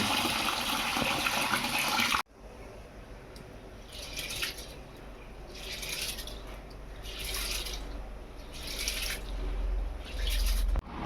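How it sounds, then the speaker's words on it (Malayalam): Rice for mandi is washed under running water. A burst of pouring gives way to rhythmic swishing and splashing as the grains are rinsed by hand, close by, with no talking. "വെള്ളം ഒഴിച്ച് കഴുകിയെടുക്കാം."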